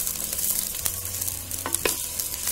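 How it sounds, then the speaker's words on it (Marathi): Tomatoes go into a hot pan for bhogi vegetable curry, followed by steady sizzling and a few sharp stirring clinks and scrapes near the end. "आता हे टामॅटो हे टाकूया आपण"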